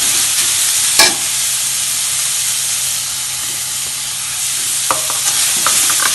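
Carrot and capsicum sauté in an oil-filled pan for a vegetable egg omelette, giving a steady close sizzle with brief spatula scrapes and clinks against the pan.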